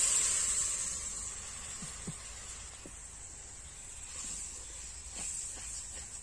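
A shrimp spice paste fried in oil sizzles and hisses as water is added, a steady, fairly faint hiss with a few soft pops and crackles.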